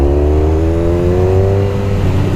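A 170 hp sport touring motorcycle engine pulling hard under light throttle, a loud close steady drone with a pitch that rises slightly and then levels off as it shifts up, with no talking.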